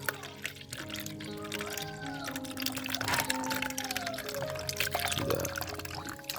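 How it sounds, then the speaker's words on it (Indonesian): Stale milk poured from a half-full 1000 ml carton, a steady liquid stream with gurgles and trickling, heard close over a busy background with some voices. "Yang pertama kita akan tuangkan dulu sekitar 500 ml ya"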